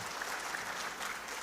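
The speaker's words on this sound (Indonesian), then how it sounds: "boleh tepuk tangan" An audience applauds at an event with speeches, a dense and steady clatter of many hands clapping together at full loudness for a brief stretch.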